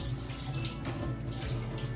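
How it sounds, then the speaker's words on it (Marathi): Water is poured off settled wheat starch in a home kitchen during kurdai making, a faint, steady trickle and splash close by with no talk. "तर आपण हे पाणी असं काढून टाकणार आहे"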